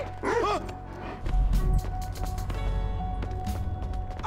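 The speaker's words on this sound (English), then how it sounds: "Bite his ass, Chop. Get his ass" Chop, a dog in the video game Grand Theft Auto V, barks and yips in a few sharp bursts at close range during a scuffle, over game background sounds.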